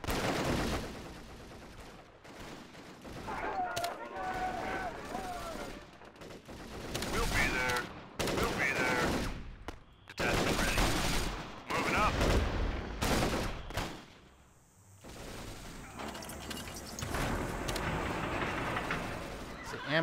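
Axis and Allies RTS battle gunfire crackles in rapid volleys and machine-gun bursts, loud and mostly continuous with short gaps, mixed with shouted voices in the clip.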